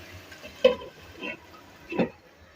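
Chicken and tomatoes cook on high flame with a faint sizzle. A few soft stirring scrapes and clinks come through, and no one talks.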